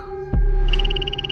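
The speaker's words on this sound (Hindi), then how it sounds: "जहरीला डार्ट मेंढक।" A poison dart frog, a tiny venomous frog of Central and South American forests, gives a quick series of evenly spaced high chirping pulses after one dull thump, over a steady low background hum.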